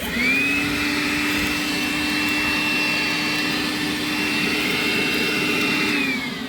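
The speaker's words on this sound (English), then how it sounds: "The little Makita vac is perfect for little jobs like this." A small Makita cordless vacuum runs steadily and loudly with a high, even whine throughout, used for a small cleanup during plumbing work.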